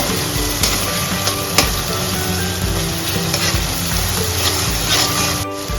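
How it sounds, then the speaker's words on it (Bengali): Tomato masala for paneer butter masala fries in hot oil in a pan on a home stove and is stirred, a steady loud sizzle broken by scraping stir strokes. "সবগুলো দিয়ে কাঁচা গন্ধ না যাওয়া পর্যন্ত এটাকে নাড়াতে থাকুন।"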